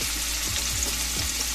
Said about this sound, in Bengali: সাদা তেল দিচ্ছি, তেলটা গরম হয়ে গেছে। এবার আমরা স্টিকগুলোকে দিয়ে দিচ্ছি।